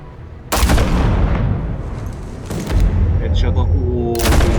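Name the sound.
gunshot headshot in Batman video game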